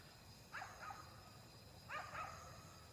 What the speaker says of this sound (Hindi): चारों तरफ से एक तो कुत्तों की आवाजें आ रही हैं